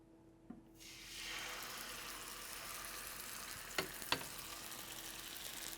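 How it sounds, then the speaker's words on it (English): Pork loin sears in a hot pan with a broad, steady sizzle that swells after the meat goes in, with a couple of sharp clinks partway through and no talking. "we're going to pan sear it so that it's brown on both sides."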